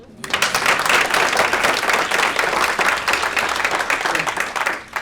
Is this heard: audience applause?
yes